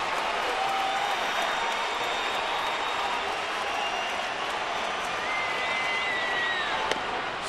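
A baseball stadium crowd of about 35,000, mostly on their feet, cheers and applauds in a steady, dense roar of clapping and voices, distant and continuous without a break.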